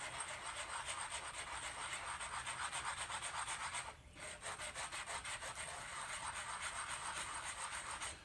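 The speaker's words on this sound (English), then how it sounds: "I'm going to take a stone and rub it just to dress off these tool marks." A stone rubbed back and forth over carved marble to dress off tool marks, a steady, close, gritty scraping that continues throughout with a brief pause midway.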